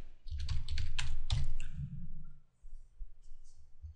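Fingers type on a computer keyboard up close in a quick run of keystrokes, pause briefly, then tap out a few more scattered keys.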